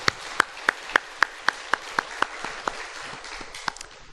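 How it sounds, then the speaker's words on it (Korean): Church congregation applause with crisp, evenly spaced rhythmic claps in unison at first, then loosening into scattered, fading clapping over about four seconds. "우리 주님께 영광의 박수 올려드리겠습니다"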